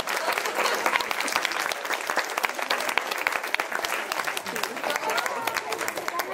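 An audience at a 2023 cabaret evening gives Isabelle Latière a loud, dense round of applause that holds steady throughout, thick with many hands clapping at once.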